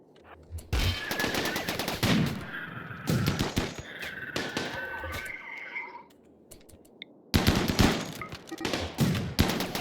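Gunfire rattles through a RimWorld battle against a pikeman, with sharp, loud bursts of shots, a quieter lull in the middle, then a renewed volley near the end.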